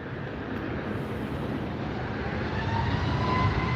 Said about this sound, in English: We've got a 787 United Dreamliner coming in on the south side